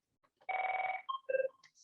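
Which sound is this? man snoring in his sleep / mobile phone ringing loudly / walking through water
mobile phone ringing loudly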